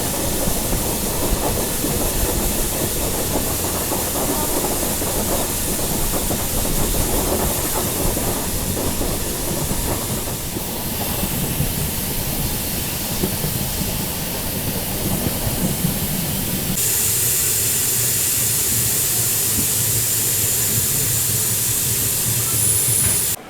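The Jharkhand Swarna Jayanti Express rolls steadily along the rails, with a continuous loud rumbling roar and rhythmic clatter of wheels, and the tone shifts partway through as the surroundings change.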